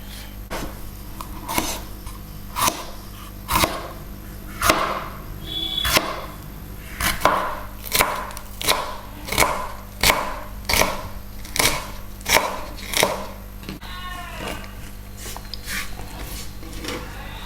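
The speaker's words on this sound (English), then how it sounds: "I'm cutting them into somewhat large pieces." A knife chopping cashews into large pieces on a board, about a dozen evenly spaced sharp thuds, close and clear, with a faint hum underneath.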